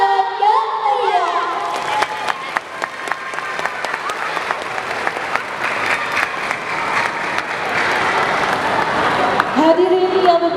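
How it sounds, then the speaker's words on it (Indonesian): Loud applause and cheering from an audience of parents and pupils at an elementary school event in Palembang, with shouts and whoops running through dense, steady clapping for about ten seconds, and voices briefly heard at the start and end. "beri tepuk tangan yang meriah"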